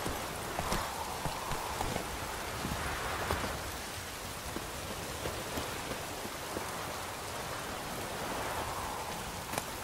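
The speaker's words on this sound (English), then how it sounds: "Looks like rain." Steady rain falls in The Witcher 3: Wild Hunt, a continuous hiss of drops on the ground with soft clip-clop hoofbeats of a horse moving through it, even and sustained throughout.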